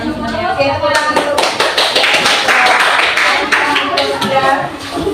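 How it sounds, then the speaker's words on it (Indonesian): Classroom clapping as students applaud a group presentation, a loud, close burst of many hands that swells and holds for several seconds before tapering, with faint voices mixed in. "Oke, tepuk tangan dulu."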